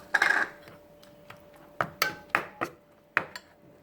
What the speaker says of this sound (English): Now I'm going to mix the spring onion in the dosa batter